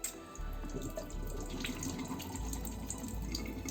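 Hot water mixed with lemon salt pours and gurgles through a household radiator as it is flushed clean, a steady splashing flow close by, with no talking.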